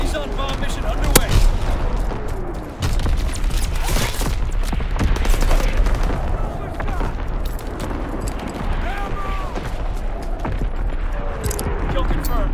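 Artillery barrage in Call of Duty WWII, dense overlapping booms and gunfire thumping continuously under voices and game chatter.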